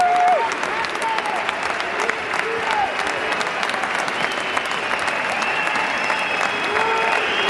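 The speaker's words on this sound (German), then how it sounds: "Ja, da kamen tatsächlich ein paar Buhrufe und Pfiffe tatsächlich dazu." A football stadium crowd at FC St. Pauli's Millerntor applauds in a dense, loud, continuous wash, with scattered whistles and boos aimed at the referee rising through the roar.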